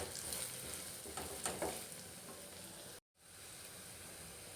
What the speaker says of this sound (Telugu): ఈ కొంచెం ఫ్రై అయిన తర్వాత 1 స్పూన్ ధనియా పౌడర్, కొంచెం గరం మసాలా వేసి కలుపుకోవాలి